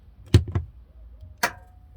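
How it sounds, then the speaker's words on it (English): A motorhome's gas water heater ignition gives a few sharp close clicks, and a further click follows a moment later, all in a quiet setting. "That click and a little whoosh means that the water heater is on, the gas is lit"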